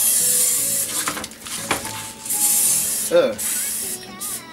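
Nonstick cooking spray is shaken and sprayed into a cake pan for a super moist chocolate cake, with close hissing bursts and can rattles, a short groan from a person in the kitchen.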